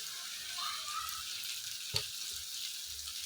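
Ingredients for a cauliflower green curry fry in a pan with a steady, soft sizzle, close but quiet, with a brief stir or clink around the middle.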